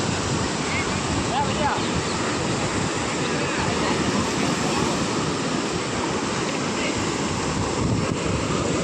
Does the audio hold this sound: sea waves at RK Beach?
yes